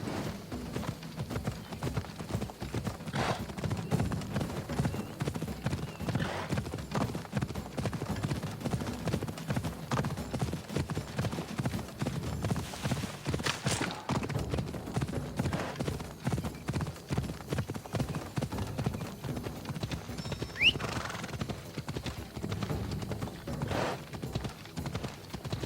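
The horse Phobos gallops in Assassin's Creed Odyssey, a steady close clip-clop of hooves running throughout with a brief whinny near the end and no talking.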